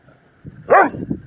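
A three-month-old Doberman puppy outdoors lets out a single sharp, high bark with a short yelping tail and some soft huffing around it, close and fairly loud.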